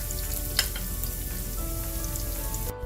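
Garlic gently frying in a pan over a low flame, a steady soft sizzle and crackle with faint pops, continuous and close with no talking.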